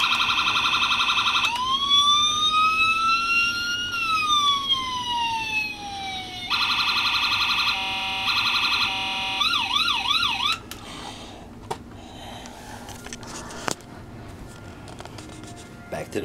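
A toy Shelby police car's siren alarm runs through a rising wail, rapid electronic yelps and a warbling tone, loud and close, then cuts off with only faint background noise and a few clicks.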